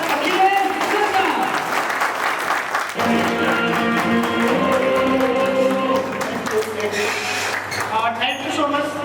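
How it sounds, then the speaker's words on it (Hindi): Audience applause at a leadership training program in Darbhanga, a dense clapping wash filling the room while loud music with steady tones runs beneath and carries on throughout. "हम स्वागत करते हैं, वेलकम करेंगे, जोरदार ताली के साथ"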